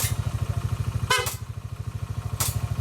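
A short motorcycle horn blast cuts in over a steady, rapidly pulsing CVT scooter engine idle, with a fainter hiss near the end.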